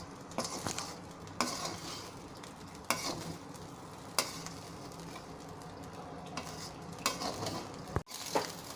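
Cooked coconut rice being stirred with coconut oil in a pan: a steady low sizzle broken by a spoon scraping and turning the rice every second or so, with a sharp knock near the end.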